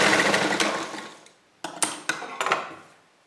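A sewing machine stitches a side seam on a long side-slit kurti. It starts with a sustained run, pauses briefly, then gives several short, sharp bursts close by, with no talking.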